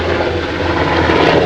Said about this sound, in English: We got helicopters. We're right by the airport.